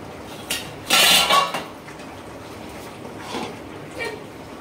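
A lid clatters onto a metal cooking pot of simmering mutton in a home kitchen, one loud clanking burst followed by a couple of softer clinks, close and alone.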